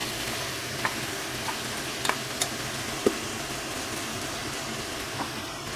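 Spice mix frying with softened tomatoes, drumstick stems and potato stems for a light Bengali fish curry, a dense continuous sizzle with a few sharp spoon taps and stirring clicks over it, no voices.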